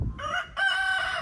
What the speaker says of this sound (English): Are you a rooster? You trying to be a rooster?